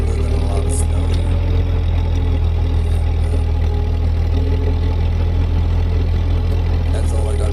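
A Ford 8N tractor clearing snow runs loud and steady, its low engine chugging close by without pause, with a person talking over it at times.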